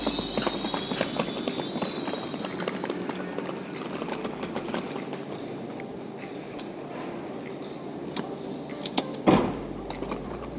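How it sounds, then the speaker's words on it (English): A train pulls into a station platform on a cold day, bringing a rumbling roll and squealing high tones at first, then quieter wheel clatter with scattered knocks and one sharp thud near the end. "Here's the train now."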